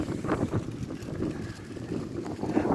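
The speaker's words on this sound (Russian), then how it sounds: "Как же, ветерочек поднялся." Light breeze gusting across a microphone outdoors on a Moscow park alley in spring, a soft uneven low rumble that swells and fades over faint background ambience.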